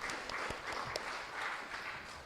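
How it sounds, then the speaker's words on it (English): Faint, thin applause from a seminar audience for presenters, with scattered individual claps standing out against a soft continuous patter heard from some distance. "let's give a very big round of applause for all the presenters"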